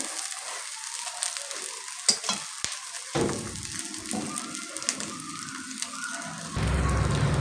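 Eggs fry in a hot pan and are flipped partway, giving a close, continuous sizzle with scattered spatters and a louder burst of frying near the end.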